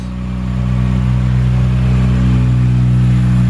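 A 2000 Toyota Celica GT-S with a 1.8-liter VVTL-i engine runs close and loud, its steady drone climbing slightly in the first second and then holding at a constant level.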